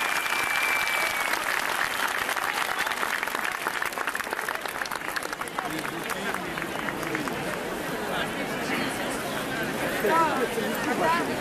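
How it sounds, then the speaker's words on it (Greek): Warm, sustained applause from a large rally crowd on the Pedion tou Areos in Athens, greeting a representative of an Athos monastery; dense continuous clapping fills the whole stretch, with crowd voices mixed underneath. "Ένα θερμό, θερμό χειροκρότημα για το Άγιο Όρος μας."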